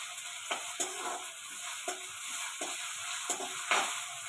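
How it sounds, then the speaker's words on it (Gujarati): Potatoes sauté in a hot pan with a steady sizzle, and a spoon clicks now and then as they are stirred, close and moderately loud with no talking. "હવે આપણે આને થોડુંક સાતળી લઈશું, બટેટાને થોડીક વાર ચડવા દઈશું"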